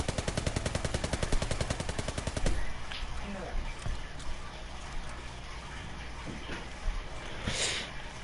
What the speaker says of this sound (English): So I got MG42.